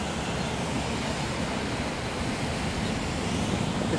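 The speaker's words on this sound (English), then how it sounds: "It's really windy out here today." Steady, loud rush of wind buffeting the microphone outdoors, a continuous roar with no pauses.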